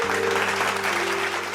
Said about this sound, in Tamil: கைத்தட்டு கைத்தட்டு கைத்தட்டு